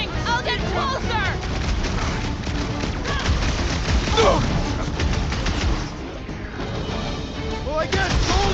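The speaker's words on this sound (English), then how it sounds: "Keep shooting!" Gunfire rattles almost nonstop in a Marvel's Guardians of the Galaxy battle, dense rapid shots filling the scene while voices shout over the chaos.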